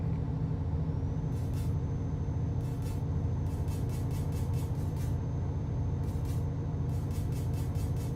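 Truck air brakes in Euro Truck Simulator 2, several short hissing bursts of released air over a steady low engine rumble, spaced irregularly across the stretch.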